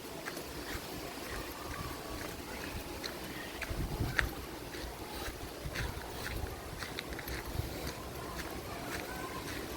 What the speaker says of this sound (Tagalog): May bagyo daw dito kaya pala mahangin tsaka non-stop.